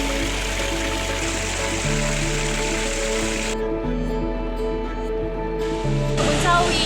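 Rushing water from Blawan waterfall and a nearby spring on the slope of Ijen, a steady broadband roar with low hum, the high hiss dropping away midway then returning; no talk.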